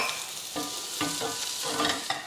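Onions fry in a pan until brown, a close steady sizzle with several spaced scrapes and stirs of a utensil across the pan over a couple of seconds, no voices.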